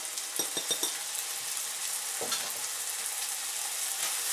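Onions frying with brown sugar in a pan, the dish being Chinese beans with ground pork: a steady close sizzle with a few quick stirring scrapes near the start and another around midway, no talk.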